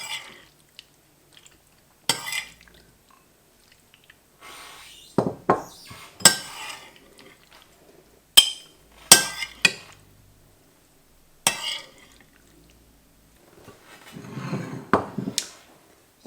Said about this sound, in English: And we can serve it up into our individual bowls.